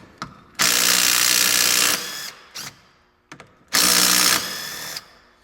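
A DeWalt DCF813 12V impact driver loosens a 10 mm bolt on a car in two loud, close hammering bursts of about a second each, with short whirring blips in between.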